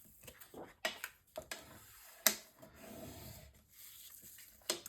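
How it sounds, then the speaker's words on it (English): Paper being burnished down along a score line while assembling a mini album page: quiet, close rubbing strokes and soft scraping passes, with a few sharper taps and handling clicks in between, no voices. "Then I'm going to fold this one over and burnish this one on top of the other piece."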